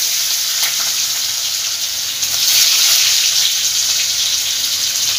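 Chopped garlic frying in a pan for chili prawns, a steady, bright hiss of sizzling oil that swells a little midway and carries on unbroken.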